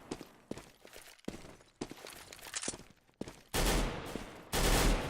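An AK and a Galil trade fire during an aim duel in a professional Counter-Strike tournament match: a string of sharp, separate rifle shots, then two louder, denser bursts near the end, heard with no commentary.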